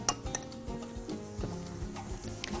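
Shakriya stew with meat and onion is spooned into a clay tagine, with quiet irregular clinks and scrapes of a utensil against the pot and soft wet plops, all faint and close.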